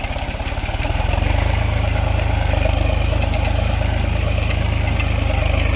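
A Solis 4515 tractor engine runs steadily with a Lemaken plough attached, a loud low throbbing drone that rises slightly in the first second and then holds even, with no voices.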